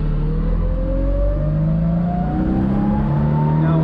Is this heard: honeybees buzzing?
no